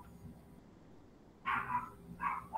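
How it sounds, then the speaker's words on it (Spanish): A dog barks sharply two or three times in quick succession, fairly close and loud after a stretch of quiet. "¡Ese perro bravo!"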